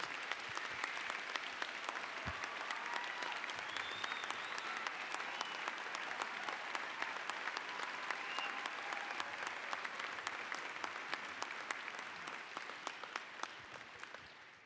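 Sustained audience applause for student veterans at a 2016 winter university commencement ceremony, a dense, even wash of clapping from a large crowd lasting throughout and fading slightly at the end.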